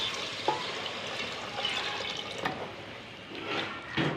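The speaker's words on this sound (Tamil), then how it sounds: "கிரேவிக்கு தேவையான அளவு தண்ணி ஊற்றுவோம்." Water splashes and trickles steadily into a pot for chicken gravy, a continuous liquid rush with a few brief clinks and bumps along the way.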